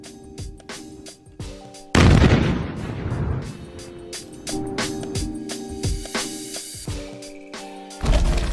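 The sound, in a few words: mine-clearing explosive rope detonating mines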